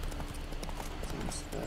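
Roach, the horse in The Witcher 3: Wild Hunt, gallops with a quick, steady clip-clop of hooves, loud and continuous through a short burst.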